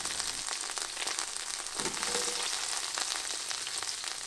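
Shallots frying in a pan used for chicken piccata sauce, a constant crackling sizzle with dense spitting pops, close and steady, with a brief soft clatter midway and no voices.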